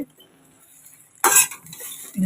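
Chow mein with sauce being stirred in a pan: a sudden loud scrape and clatter of a utensil against metal, then quieter scraping and a brief clink.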